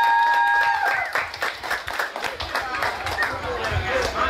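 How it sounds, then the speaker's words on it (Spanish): A crowd at a town carnival during patron-saint festivities in Uluazapa claps and cheers in scattered bursts, with voices and chatter mixed through the applause. "Un aplauso más fuerte,"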